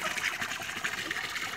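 Water runs steadily from a backyard pet waterfall into a pool, a soft, continuous splashing trickle heard close and on its own.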